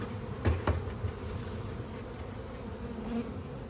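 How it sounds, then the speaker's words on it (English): Honeybees buzz in a full beehive, a close, continuous drone with a couple of sharp knocks near the start as the hive is handled. "it is great because there's a lot of bees in this one."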